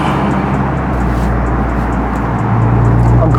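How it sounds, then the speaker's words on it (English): A Nissan GT-R R35 with a catless full bolt-on exhaust idles and revs very loudly up close, a heavy continuous engine drone with a deep low rumble that steps up near the end. "Because why does a car need to be that loud?"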